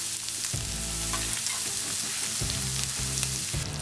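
Cheese sizzles loudly on a hot flat-top griddle for a fajita cheesesteak sandwich, a dense continuous frying hiss with intermittent scraping thumps of a spatula, close and without speech.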